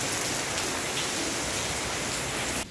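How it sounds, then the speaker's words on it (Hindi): Steady rain falls in a continuous broadband hiss, dense and even throughout, with no voices, until it briefly thins near the end. "हाय कितनी अच्छी बारिश हो रही है।"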